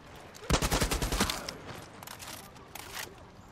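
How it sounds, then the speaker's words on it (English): Enemy gunfire in the video game Far Cry 6: a rapid burst of loud shots up front, then scattered quieter shots and a couple of later bursts in a chaotic firefight. "You got a fucking shotgun, dude."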